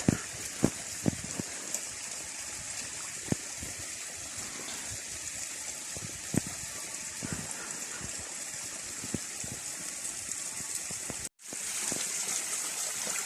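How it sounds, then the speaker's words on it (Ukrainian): A waterfall splashes steadily inside a small cave above the Dniester river, a continuous loud rushing hiss with occasional sharper drips and knocks. "Дивіться, який ж тут водоспад."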